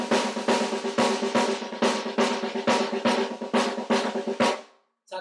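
Drum warm-up of single and double strokes and paradiddles in odd-time linear patterns, played as a steady run of about eleven crisp, evenly spaced hits, close and loud, with no talking, ending abruptly.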